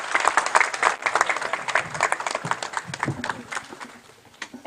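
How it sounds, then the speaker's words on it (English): Conference audience at an IEEE power electronics event claps for dignitaries, a smaller group's applause with distinct individual claps that gradually thins out and fades. "Please let's have a huge round of applause for all of our dignitaries."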